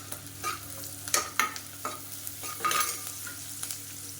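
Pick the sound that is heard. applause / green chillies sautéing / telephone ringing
green chillies sautéing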